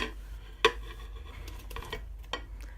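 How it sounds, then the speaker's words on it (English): A spoon stirs a biryani mixture with fried onions and fried potatoes in a pot, giving one sharp clink against the metal and softer scraping and shuffling, quiet and close over a low hum. "Now I'm going to give it all a good mix."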